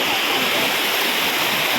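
Shoolam Waterfalls rushing steadily nearby, a dense continuous roar of falling water with broadband hiss that stays even and loud throughout, no voices present.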